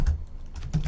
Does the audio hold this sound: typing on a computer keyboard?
yes